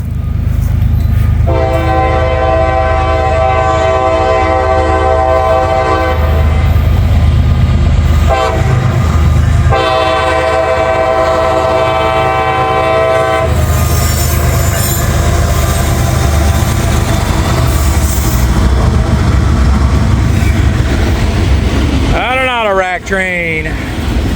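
A CSX coal train rolls past up close with loud rumbling and clattering wheels, its horn blaring in two long blasts with a shorter blast near the end, while someone talks over the noise.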